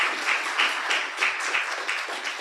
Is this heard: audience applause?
yes